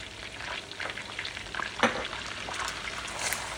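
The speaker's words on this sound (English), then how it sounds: "Stir this around, give it just a couple minutes to combine and soften the shallots" Smoked paprika, cayenne and shallots toasting in a pan, a soft, steady frying sizzle with a few light stirring scrapes and one brief clink, fairly quiet and close.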